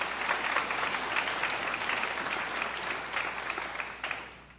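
An audience at Nassau Community College on Long Island applauds its staff during a governor's public event, a steady, fairly distant wash of many hands clapping that holds evenly throughout.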